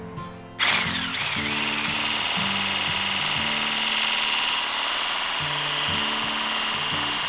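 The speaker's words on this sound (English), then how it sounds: "So I like to use this Hamilton Beach with the whisk attachment." A Hamilton Beach mixer with a whisk attachment starts with a click and whirs steadily at close range, its motor tone stepping slightly as it whips egg whites for French meringue, heard alone without talk.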